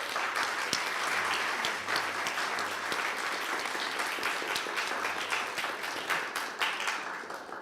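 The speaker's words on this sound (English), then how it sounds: "Let's give them a round of applause," A concert audience at a cellist benefit concert applauding, dense sustained clapping from many hands that fills the room at full strength and only starts to thin out near the end.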